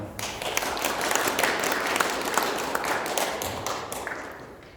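A seated audience at a panel discussion on election fraud gives a full, steady round of applause for a newspaper publisher after his talk. Dense clapping runs loud and unbroken throughout, then thins slightly near the end.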